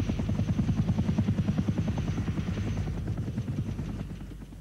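A Sikorsky R-4 helicopter of the Second World War era, its rotor beating in a fast, even low thump that stays steady, then thins slightly as it fades toward the end.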